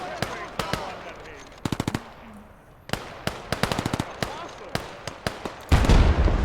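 Machine gun bursts crackle through a battle video game, with repeated rapid strings of sharp shots and scattered single cracks, loud and punchy, ending in a heavy rumbling blast.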